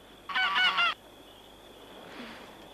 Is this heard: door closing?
no